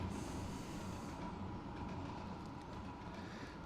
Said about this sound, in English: I've just got the train running through